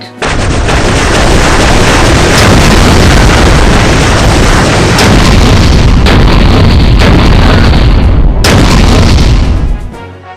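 Fighter craft firing weapons in the Wing Commander space combat game, a dense, continuous barrage of booming blasts and explosions, very loud and sustained for about ten seconds with sharp bursts cutting through.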